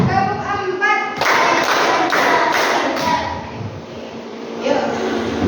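A class claps hands in rhythm during a clapping game at an Indonesian school lesson: a few quick claps, then a run of sharp evenly spaced claps, with voices chanting over them.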